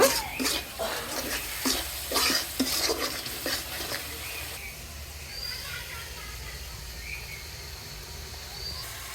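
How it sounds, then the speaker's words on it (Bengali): Salt, chili powder and turmeric fry in a pan, with sharp scraping stir strokes and clinks of a spatula over a low sizzle; the stirring fades after a few seconds, leaving a soft steady hiss. "লবণ মরিচের গুঁড়া এবং হলুদের গুঁড়া মশলাগুলো ভালো মতো কষিয়ে নেব"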